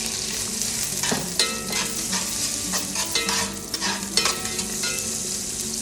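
Green onion bulb fries in hot vegetable oil for pad thai noodles, giving a constant crackling sizzle broken by several sharp stirring scrapes in the pan, close up and with no talking.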